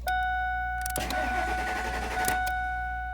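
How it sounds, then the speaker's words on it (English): A Ford's starter cranks in a rapid, rhythmic churn for about a second and a half with a broken ignition lock cylinder, but the engine never catches, over a steady electronic hum. "the starter is still turning the engine over"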